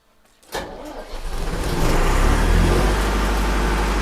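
An older, refurbished car is started: a brief crank bursts in after a moment of quiet, then the engine settles into a loud, steady idling rumble close by.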